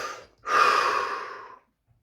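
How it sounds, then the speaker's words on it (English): A single deep breath, a short catch, then a long airy exhale lasting about a second before it fades to silence, close and alone. "Take a deep breath."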